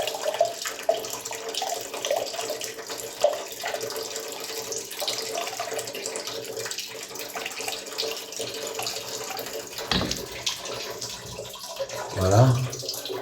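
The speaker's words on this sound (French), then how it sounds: "si je fais remplir mon verre" A Kangen water machine runs water into a glass, a steady near stream of pouring and splashing lasting throughout, with a brief thump partway through and a louder gurgle near the end.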